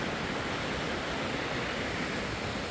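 Waterfall at Fall Creek Falls State Park, a steady broadband rush of falling water, constant and fairly soft, with no voices over it.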